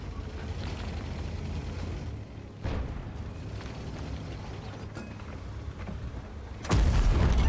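Distant booming tank gunfire from a Leopard 1 in World of Tanks thuds at intervals over a constant rumbling background, with a heavier, louder blast near the end.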